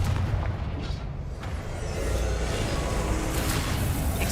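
The Confringo explosion spell being cast in the video game Hogwarts Legacy, producing a loud, continuous rumbling blast with heavy booming low end and a whooshing burst partway through.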